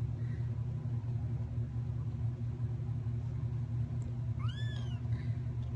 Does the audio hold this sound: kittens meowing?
yes